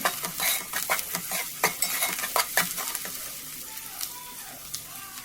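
Fish curry frying in a pan with curry leaves, a spoon scraping and stirring in irregular clicks over a steady sizzle, close and moderately loud.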